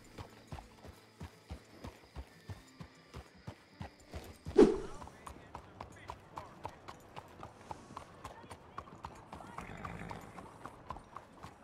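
Horse hooves clip-clop on a ranch in a roleplay video game, an even walking rhythm of distinct hoofbeats, fairly near, with a brief louder bump partway through and no talk.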